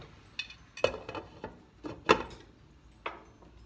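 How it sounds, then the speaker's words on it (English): Metal lid set onto a cooking pan of cauliflower upma in a home kitchen, a few sharp clinks and clatters spaced irregularly, close and fairly quiet with no talk. "Now we will just cover this with the lid"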